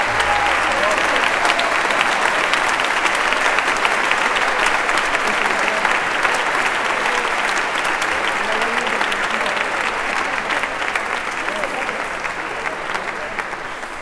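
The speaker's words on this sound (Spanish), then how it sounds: "Quisiera que le diéramos un aplauso al compositor que desafortunadamente no pudo estar." A concert hall audience at a trombone and orchestra performance applauds the absent composer, dense sustained clapping from a large crowd that carries on for the whole stretch, thinning only slightly toward the end.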